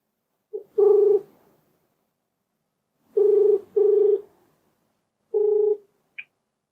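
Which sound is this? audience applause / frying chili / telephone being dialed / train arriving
telephone being dialed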